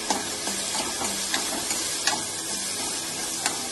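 Garlic sizzling loudly in a hot pan, a steady dense hiss with occasional sharper crackles and pops, close and continuous throughout.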